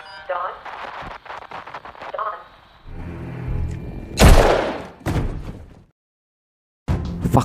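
Gunshots from the 2020 film The Hunt, where a man is shot dead: after a stretch of speech, sharp blasts ring out, the first loudest, then a brief silence and another burst at the end.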